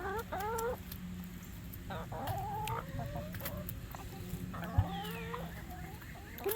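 Chickens cluck nearby in repeated rising and falling calls over a low background hum, with a brief thump partway through.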